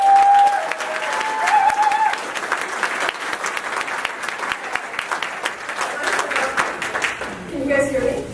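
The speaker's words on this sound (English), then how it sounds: "a big warm round of Manitoba applause for Tracie" A warm round of applause from a Manitoba audience for a speaker named Tracie, loud and continuous clapping through the whole stretch, with faint whistles or cheers mixed in and a brief trailing-off near the end.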